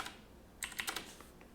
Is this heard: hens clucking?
no